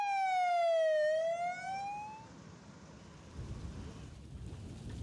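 Ambulance sirens wail during a wildfire evacuation in Greece, a loud descending siren tone sweeping near then fading, followed by low rumbling background noise.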